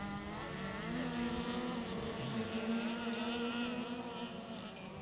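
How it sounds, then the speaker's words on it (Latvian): Rallycross race cars with 1600 cc front-wheel-drive engines at a Latvian championship round, a sustained, droning engine whine with shifting pitch as cars pass at mid distance, with a commentator's voice faintly underneath. "Tūkstoš 600 kubikcentimetru dzinēja priekšpiedziņas automašīnas."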